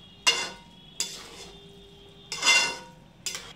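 Masala pulao ingredients being mixed in a pot, four distinct scraping, clinking bursts of a spoon against the metal with quiet gaps in between.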